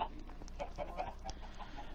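Chickens in the Minecraft video game give short soft clucks, scattered irregularly over a low game background, fairly faint with no voices.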